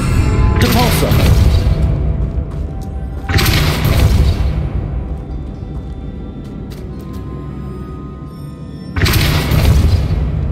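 The Depulso spell is cast in Hogwarts Legacy: loud booming blasts go off three times with heavy low rumble, and a quieter crackling, rumbling game soundscape fills the gaps between them.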